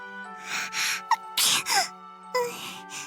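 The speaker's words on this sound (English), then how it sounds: "She sneezed." A girl gives a few breathy sneezes and gasps, close and fairly soft, three or four short bursts over a quiet, steady background hum.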